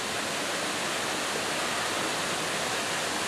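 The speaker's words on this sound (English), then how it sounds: "We are here at Angel Falls, the farthest north waterfall I've ever been to in my life." Angel Falls, a waterfall in the northern woods of Maine, roars as a constant, loud, dense hiss of falling water, steady throughout with no voices over it.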